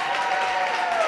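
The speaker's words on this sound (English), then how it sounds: "let's give a round of applause for the school" A brief burst of crowd applause at a school wellness event, steady clapping from many hands at close range.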